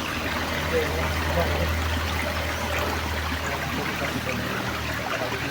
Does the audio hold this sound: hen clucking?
no